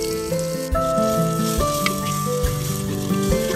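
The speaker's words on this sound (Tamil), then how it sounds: "ஃப்ரெஷ்ஷாக அரைச்சி வச்சிருக்க பச்சை மிளகாய், இஞ்சி, பூண்டு, புதினா பேஸ்ட்டை ஆட் பண்ணிக்கலாம்." A paste of green chili, ginger, garlic and mint hitting hot oil for a green chilli chicken biryani, giving a crackling sizzle with sharp spatters and pops across a few seconds, no talk.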